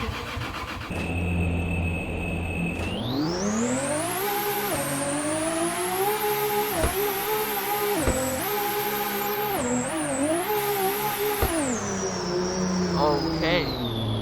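A Lamborghini Gallardo Pro engine in Car Dealership Tycoon fires up and revs hard, its pitch climbing and dropping through repeated gear changes, loud and sustained, with a voice talking over parts of it.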